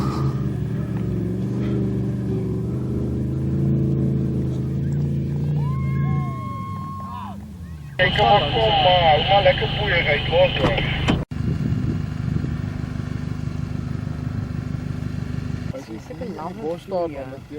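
A Toyota Fortuner 4x4 works the Klein Tafelberg off-road trail in South Africa, its engine rumbling and revving hard in surges that rise and fall, with voices mixed in.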